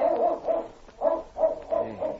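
A Malamute sled dog barks in an old-time radio drama set in the Yukon, a series of five or six fairly close yips and barks in an uneven rhythm, with no voices over them.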